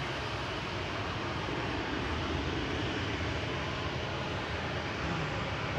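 A KLM airliner at Manchester Airport gives off a steady, fairly faint broadband roar that holds evenly throughout, distant and without voices.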